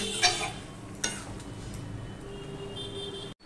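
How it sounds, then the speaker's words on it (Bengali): Chicken being sautéed on high heat for Bengali chicken kosha: a few clinks of a spoon against the pan over a soft, low sizzle, followed by a brief cut at the end. "এবার আমি এটাকে কষাতে থাকবো।"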